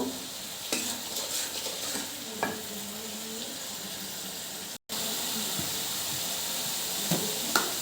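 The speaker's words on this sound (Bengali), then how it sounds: "লঙ্কার গুঁড়ো দিয়ে দিলাম মশলাটাকে আমি ভালো করে কষিয়ে নেব" Spice paste with turmeric and chili powder sautés in a pan for an egg dopiaza, a steady close sizzle with occasional spatula scrapes and stirring knocks, broken by one brief dropout, no speech.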